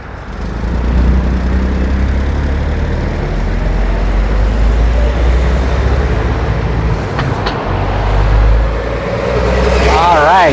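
A vintage Routemaster bus pulls away, its low engine rumble steady and close throughout, with voices talking over it and a brief squeal near the end.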